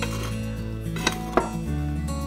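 Tabani, an Udmurt flatbread, being turned in a hot frying pan, with a steady sizzle under two sharp clacks of the pan near the middle and a low stovetop hum throughout.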